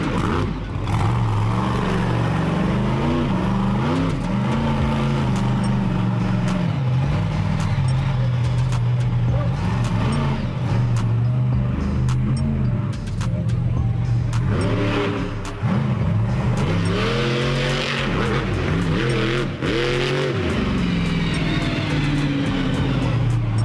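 The Bigfoot monster truck, a blue Ford-styled machine, rumbles with its engine running, repeatedly revving up and down in loud, wavering surges over a continuous heavy drone.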